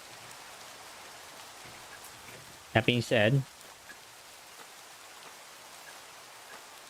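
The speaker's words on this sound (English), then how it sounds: "it is very peaceful listening to the rain" Steady rain falls with a soft, even hiss of drops, while a voice speaks briefly near the middle.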